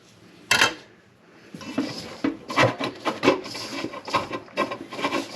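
A spatula scrapes down wet, loosely mixed scone dough in a bowl, giving a run of short, close rubbing and scraping strokes in an uneven rhythm, with one sharper knock near the start.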